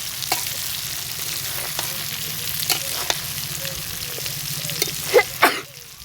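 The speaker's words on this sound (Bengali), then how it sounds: "তারপরে ঢাকাটা খুলে আবারও নাড়াচাড়া করে নিলাম।" Spicy-sour mango pickle stirred in a hot pan, a steady low sizzle under soft scrapes of the spoon, with two louder stirring clatters near the end before the sizzle fades.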